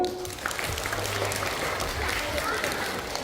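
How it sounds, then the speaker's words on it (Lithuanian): An audience at a library closing celebration applauds steadily, a dense, even wash of many hands clapping that carries on without a break, with a faint voice or two underneath. "Smilte, ar tau patiko aplodismentai?"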